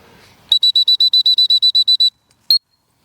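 A dog training whistle blown in a rapid run of about twelve short, shrill, evenly spaced pips, then a pause and one more short blast, close and loud with no talking.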